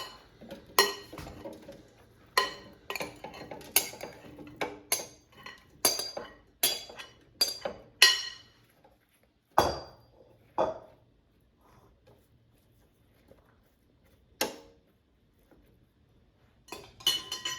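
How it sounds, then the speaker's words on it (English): Chicken and eggplant being loaded into an air fryer basket, heard as a run of close, sharp clinks and taps from utensils and the basket, irregular and spaced out, with quiet gaps between them. "I'm going to take out the air fryer basket, and I'm going to put everything in the air fryer"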